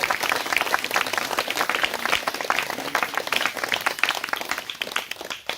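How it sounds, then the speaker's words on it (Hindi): A church congregation at a Kapilvastu service claps together in a steady, dense round of applause, close and sustained for several seconds with faint voices mixed in. "सब ताली बजाएंगे यीशु मसीह के लिए"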